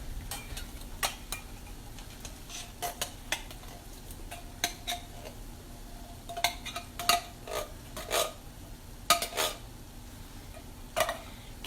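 A metal spoon scraping and clinking against the inside of an opened can of kidney beans, with irregular sharp taps and scrapes spread unevenly through the stretch, close and moderately loud, without speech.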